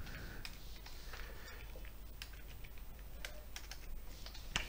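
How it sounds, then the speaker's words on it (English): Typing a router RIP command on a computer keyboard during a CCNA routing lab: steady quick keystroke clicks in an irregular run, close and fairly quiet, with no talk. "we have to type the command"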